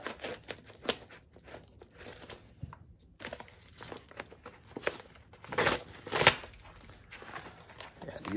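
A heavily taped-up package being cut open and unwrapped: repeated crinkling, tearing and crunching of tape and packaging in irregular bursts, close and moderately loud, with a louder rip near the end.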